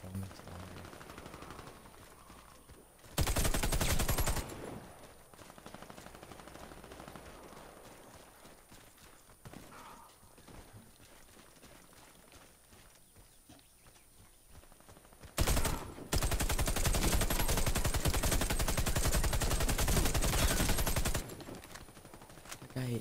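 Warface gunfire in two loud sustained bursts of automatic fire, one brief early and a longer rattling stretch later, separated by quieter stretches of background game noise and scattered clicks.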